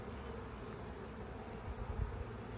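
Honey bees hum steadily over a brood frame in an open hive, a dense continuous buzz close by with a slight swell near the end.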